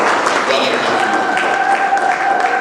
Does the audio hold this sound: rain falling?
no